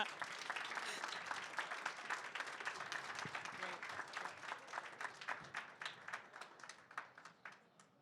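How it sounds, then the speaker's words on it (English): An audience applauds steadily at a presentation event at Awesome Games Done Quick 2026, a dense wash of clapping that thins into scattered individual claps as it fades out. "Everyone, a round of applause to Prosentia."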